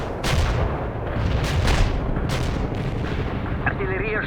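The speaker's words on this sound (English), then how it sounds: "Artillery strike on the way. Heavy fire support here." A World in Conflict artillery barrage: heavy explosions roll in one after another as a dense, booming wall of blasts. Faint radio-like chatter and a brief whine appear near the end.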